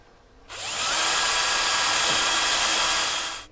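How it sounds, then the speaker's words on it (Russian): A power drill drives a screw into a punching bag mount with a loud, close, continuous whine lasting about three seconds, rising sharply at the start and stopping abruptly. No one speaks. "Сюда вкручиваем само крепление."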